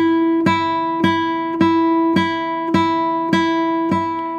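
A guitar string plucked with the finger pulling inward rings with a full, rounded tone, repeated at an even pace about every half second, close and clear with no voices.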